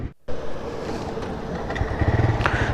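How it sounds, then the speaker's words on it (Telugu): A TVS Raider motorcycle engine runs in gear, a steady close low rumble after a brief cut, with a throbbing pulsing rhythm building toward the end. "గేర్లో ఉంది, బండి స్టార్ట్ అయ్యి ఉంది"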